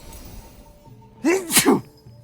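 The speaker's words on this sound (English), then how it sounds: "The sneeze snuck up on me." A single sharp human sneeze bursts out of a quiet background, a quick two-part voiced burst, close and fairly loud, with faint steady game music underneath.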